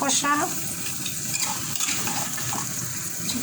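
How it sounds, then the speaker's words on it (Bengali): Chicken and potato pieces sizzle and fry in a pan at a moderate level while a utensil stirs them, with soft scraping and bubbling throughout. "আলু দিয়ে ভালো করে চিকেন কষাচ্ছি"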